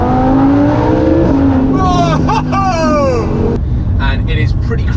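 Lamborghini Huracán with its stock exhaust system, the engine droning and rising loudly nearby while a person talks over it, followed by a quieter, rougher stretch.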